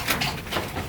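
Serbian Highflyer pigeons in a loft, a short, soft, close coo lasting under a second, heard on its own with no talking.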